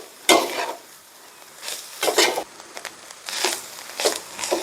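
Curry leaves and lemon leaves frying in a pan, a few loud crackling sizzle bursts spaced apart with stirring scrapes between, close and without talk.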